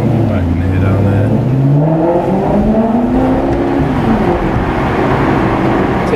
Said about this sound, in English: it's got a good standard exhaust system, this, apparently